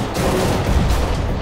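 A grenade detonates in Counter-Strike: Global Offensive, a loud, dense, continuous blast of broadband noise that rumbles through the short stretch with no pause.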